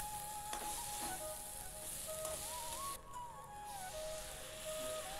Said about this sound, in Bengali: মশলার সঙ্গে সবজিগুলো ভালোভাবে কষানো হয়ে গেছে